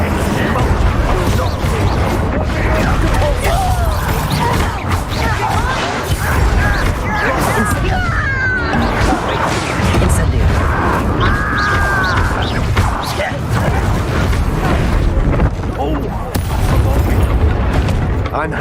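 Spell explosions and blasts in the Hogwarts Legacy video game, loud heavy booms and crashes in dense succession over continuous combat noise, with voices shouting throughout.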